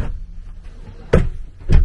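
Drawers in a 2019 Grand Design Momentum 376TH toy hauler RV being opened and shut, giving two solid wooden thumps less than a second apart over quiet interior noise.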